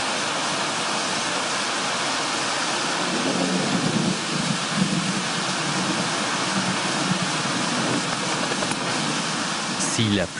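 Heavy rain pours in a dense, constant roar, with a low rumble of thunder rolling underneath partway through.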